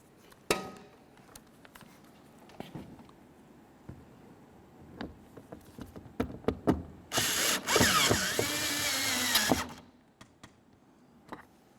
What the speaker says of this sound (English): continue by putting in your Phillips head screw